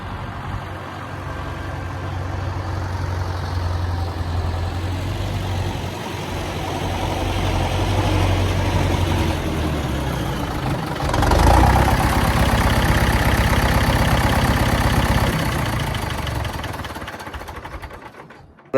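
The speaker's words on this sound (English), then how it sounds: "we've made it home in the new tractor" A David Brown diesel tractor engine runs steadily for the whole stretch, a low rumbling drone with mechanical clatter that grows a little louder partway through.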